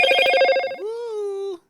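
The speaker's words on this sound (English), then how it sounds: "That's my phone." A telephone ringer sounds clearly and alone, a rapid trilling bell burst followed by a steady held electronic tone that cuts off sharply.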